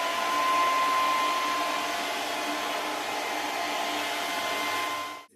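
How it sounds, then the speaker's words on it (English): A blow dryer running steadily while drying a child's hair during a simple protective kids' hairstyle, a continuous airy whine and rush held at even loudness for about five seconds, alone, before switching off. "I'm going to be using a blow dryer"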